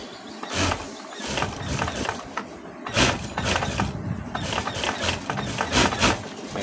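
A sewing machine stitching the side seam of a blouse: close, busy mechanical clatter in irregular bursts, with a few brief pauses, steady in loudness throughout.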